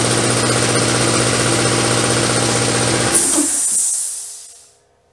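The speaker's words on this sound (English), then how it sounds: "So that's the sound of it when it does kick on and run." Shop air compressor with a low-pitched pump running steadily and loudly close up, ending in a sharp hiss before spinning down to silence, with no talking.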